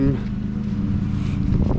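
A lawn mower cutting grass in a garden gives a steady, close engine drone, holding a constant low hum with slight wavering throughout.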